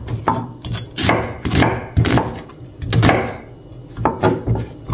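An onion is chopped on a wooden board in a series of sharp, close knife knocks at an uneven pace, loud and dry with no voices.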